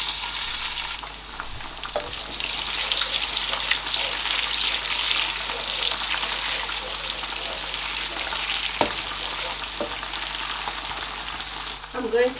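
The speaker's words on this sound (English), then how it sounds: "I'm going to add onions in the pot" Onions fry in a hot pot for a Nigerian yam and vegetable dish, giving a steady, close sizzle with a few faint clinks and stirring sounds.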